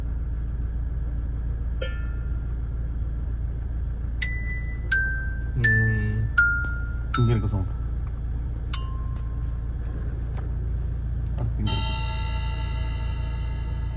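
Struck bell and chime tones play through a two-way active audio setup in a Toyota Fortuner, a series of separate clear ringing notes over a low steady hum, then a longer bright chime near the end, with brief talk.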